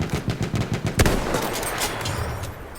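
Rapid gunfire aimed at a tank in the video game Battlefield 1: a loud, close burst of quick shots, one heavier blast, then a fading rumble.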